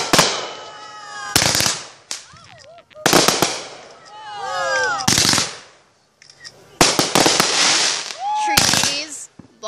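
Fourth of July fireworks burst in loud, rapid crackling volleys with whistling rising and falling shells between them, the barrages coming in bursts separated by short lulls while people cheer and talk nearby.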